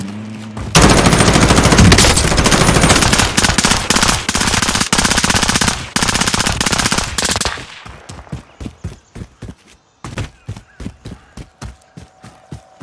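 Sustained automatic gunfire in Call of Duty Warzone blasts loud and close for several seconds, then breaks into a series of separate single shots and short bursts.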